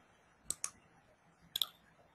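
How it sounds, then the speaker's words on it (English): A computer mouse clicks twice, pauses, then clicks twice more, crisp and close against a quiet background. "So I'm clicking OK."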